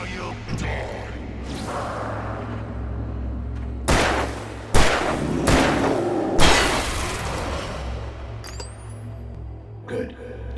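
Gunfire in Alan Wake Remastered: several sharp, loud shots spaced a second or so apart over a low droning ambience, with a whooshing sweep and a fainter final shot near the end.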